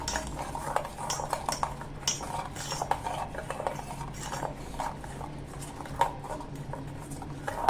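A spoon stirs salt and cumin powder into beetroot buttermilk, giving repeated light metallic clinks and scrapes against the vessel in an uneven rhythm, close and fairly quiet, with no talking.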